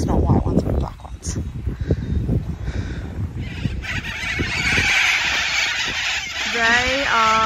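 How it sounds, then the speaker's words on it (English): Geese and ducks at a local park give several honking calls near the end, over a steady outdoor background with muffled voices earlier on. "There's heaps of wildlife, ducks, geese, black geese, no, sorry, white geese"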